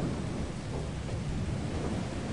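Steady rumbling roar of thunder with rain-like hiss after a lightning strike in Lethal Company, a continuous loud wash of low noise with no distinct crack, filling the moment without talk.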